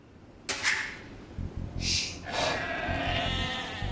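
Sheep bleat in the real-time strategy game Age of Empires II: Definitive Edition, with two or three close, nasal cries among short whooshing and clicking game effects, and no voices.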